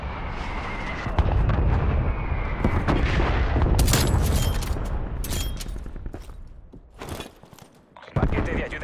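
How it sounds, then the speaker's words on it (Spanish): Artillery barrage in the multiplayer game Call of Duty: Black Ops Cold War: a dense run of heavy booms and rumbling blasts, loud and close, with sharp cracks near the end and a game voice announcing over the fire. "Ataque inminente de artillería detectado. Aviso interno, artillería en camino."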